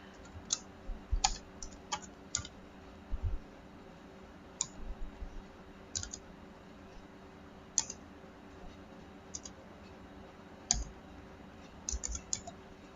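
Typing code on a computer keyboard in bursts of quick clicks separated by pauses, close and crisp over a faint steady room hum.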